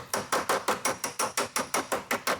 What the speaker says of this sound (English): So you heard that when the hammer works with the dolly?